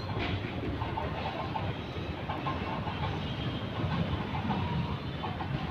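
A train runs past behind a screen of trees, a steady broad rumble with faint rhythmic rail clatter holding at moderate distance throughout, with no voices.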